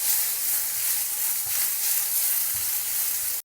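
Dal and a cup of washed curry leaves sizzling in a hot pan, a loud, dense, steady hiss of frying that runs unbroken before cutting off abruptly at the end, with no talking.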